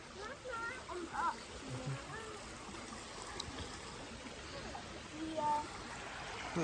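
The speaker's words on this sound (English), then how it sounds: "A nice little creek." A small creek flows along the Temescal Canyon Trail, giving a faint, steady trickle and wash of water throughout, with distant voices and a few brief bird-like tones above it.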